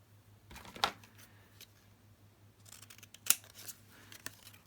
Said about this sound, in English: I can cut out some of the bigger leftover pieces, make that into a tag shape.